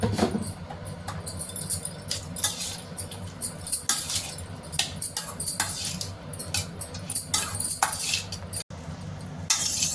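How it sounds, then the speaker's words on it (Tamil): Salt stirred into cooked rice for lemon rice, a spoon scraping and clinking steadily against a vessel in close, busy bursts with no talking. "போட்டு மிக்ஸ் பண்ணி விட்டுக்கலாம்"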